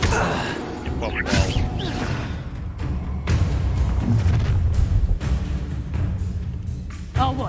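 Fiery Incendio spell bursts in a Hogwarts Legacy duel, loud whooshing blasts and crashes amid ongoing combat noise, with game voices talking over parts of it.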